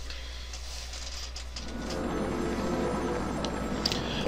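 A telephone in the video game Batman Arkham City rings steadily over a low hum and game ambience, growing louder partway through.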